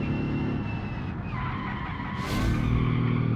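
Prototype car in the Automation game being driven hard, engine revving as the tyres skid and squeal through a corner, close and fairly loud with no talk.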